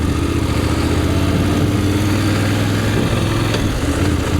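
A 2025 Voge DS900 X, a Chinese-built 900 cc motorcycle, drones loudly and continuously while riding, its engine note steady and close with rushing wind over the top.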